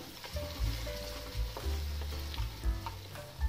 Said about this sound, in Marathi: हा मसाला 2 मिनिटे आपण परतून घेणार आहोत।